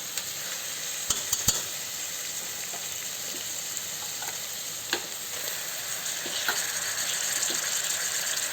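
Mutton being stirred and fried in a pan for a curry, a steady close sizzle with a few sharp scrapes of the spoon against the pan.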